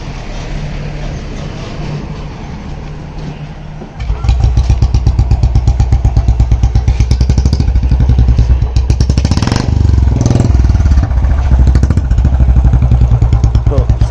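A 2021 Royal Enfield BS6 Standard 350 fitted with a short bottle exhaust and catalytic converter, first ticking over at idle, then firing up into a loud, close, rapid steady thump of single-cylinder exhaust beats.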